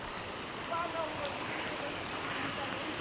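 Water from the Canlaob river waterfall rushes in a constant broadband wash, with voices faintly mixed in.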